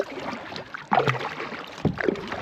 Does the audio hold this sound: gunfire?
no